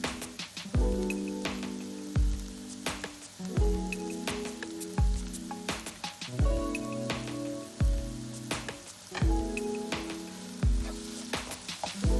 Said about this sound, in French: Incorporez à présent les épinards égouttés.